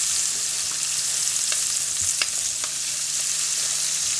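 Onions frying in a pan for smothered pork chops, a loud continuous sizzle with a few sharp ticks and pops, no talking.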